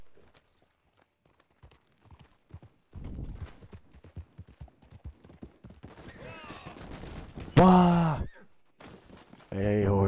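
Horse hooves clip-clopping in Red Dead Redemption 2 gameplay, a quick run of light steps, then a loud neigh near the end, with a man's exclamations and game sounds around it.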